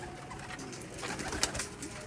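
Domestic pigeon kept by a pigeon fancier in Sialkot cooing softly at close range, a low murmuring call over faint background hiss, with one brief sharper click partway through.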